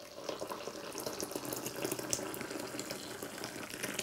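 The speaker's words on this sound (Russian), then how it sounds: "Теперь наливаем чаек." A steady stream of tea pouring continuously into a cup, close by, with a bright splashing texture and no talking.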